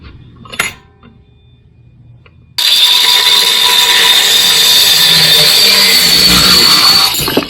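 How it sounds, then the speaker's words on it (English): A power saw cuts a small wooden wedge clamped in a vise, starting abruptly after a quiet pause and then grinding loudly and steadily for several seconds before stopping. "We're going to put this in the vise and cut."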